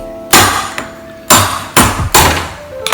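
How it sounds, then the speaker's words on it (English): A hammer strikes fresh crabs four loud, sharp times in close succession, each hit cracking shell with a brief ringing decay, near and alone without talk. "This is hammer time."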